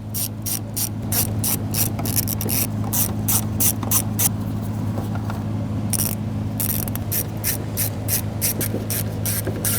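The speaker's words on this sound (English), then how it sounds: "We have a series of 8mm nuts. I want to go ahead and loosen and remove all of those." A ratchet loosening 8mm nuts on the fuel pump of a 2015-2019 Subaru Outback, with rapid pawl clicks in repeated bursts and brief pauses between them, close and crisp over a low steady hum.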